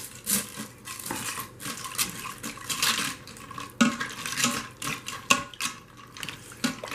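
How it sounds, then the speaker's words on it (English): Noodles are added to a pan of hamburger stroganoff and stirred in, making continuous wet sloshing and squelching, with frequent clinks and scrapes of a utensil against the pan, close and busy throughout. "Stir it all in together. And we add in the noodles."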